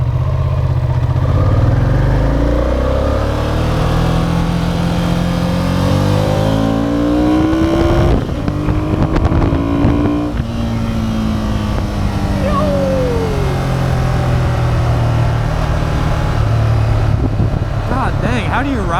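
A 2002 Ducati Monster 750ie motorcycle engine while riding, loud and close, its pitch climbing and dropping repeatedly as it revs up through the gears, with constant wind rush underneath.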